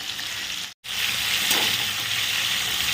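Prawns frying in hot oil give a steady, loud sizzle and hiss, broken by one brief silent gap before the bubbling resumes.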